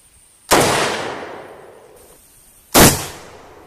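Two loud gunshots strike a Midwest Armor Guardian IV ceramic body armor plate during a test, the first with a longer decaying tail and the second about two seconds later, sharp and close.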